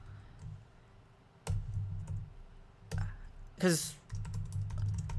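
Computer keyboard keys click in short bursts while code is typed, quiet and close, with a voice speaking briefly in between.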